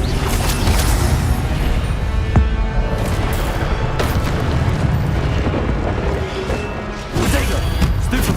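Incendio fire spell in Hogwarts Legacy roars as a loud, dense rush of burning flame and crashing impacts, sustained for several seconds with brief bursts, no voices.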